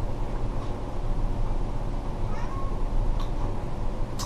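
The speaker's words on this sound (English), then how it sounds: "As my cat meows at the door." A house cat meows at a door, a few short, fairly faint cries rising over a steady low background hum with no speech.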